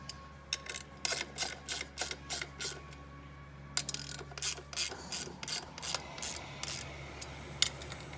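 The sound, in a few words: tightening screws on a Cazaux Oenoflex 200 pump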